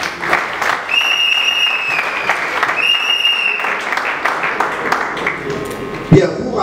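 Sustained applause from a crowd at a memorial gathering, a dense steady patter of many hands filling the space, with a few brief high whistle-like tones rising over it and a sharp knock near the end.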